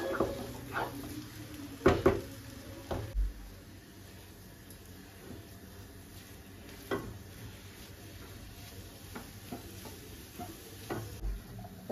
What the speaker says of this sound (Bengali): এই সময় একদম গ্যাসটাকে আমি কমিয়ে রেখে আস্তে আস্তে নাড়ছি